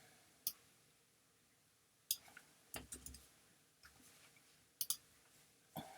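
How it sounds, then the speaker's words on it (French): Computer mouse clicks come sharp and quiet, scattered over several seconds with single and double taps and a near-silent background, while building a Genially escape game. "je clique en bas là sur ajouter une page"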